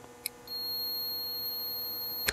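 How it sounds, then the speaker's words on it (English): A multimeter on continuity test gives a steady high electronic beep that holds for about two seconds, close and clear, framed by a couple of small clicks from the probes, with no talking. "when it has a completed connection that has continuity, it's conducting electricity, it'll beep and show me on the screen."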